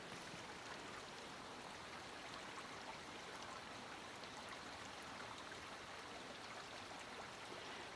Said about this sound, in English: the streams are full of water